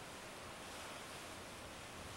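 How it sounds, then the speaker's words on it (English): Strong Santa Ana winds blow in an early-morning wildfire setting, a steady rushing roar of dense noise with no gusting breaks, faint and continuous over the short stretch. "Those are the Santa Ana winds, and that's not good."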